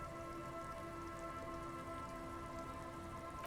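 Rain streams down the yellow hull of a boat in the video game Disco Elysium, a soft, constant patter and hiss with a faint low hum beneath, unbroken and fairly quiet.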